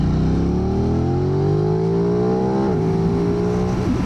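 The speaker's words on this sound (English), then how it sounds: "the intake sound, so the sound that the rider hears the most, is pretty nice." Aprilia RS660 Factory motorcycle from 2025 with a steady, close intake drone whose pitch climbs smoothly under acceleration, dips abruptly as if shifting, then keeps pulling without pause.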